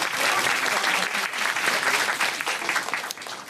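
An audience at a public town-hall meeting with the president claps in dense, steady applause that fills the whole moment, loud and even with no pause.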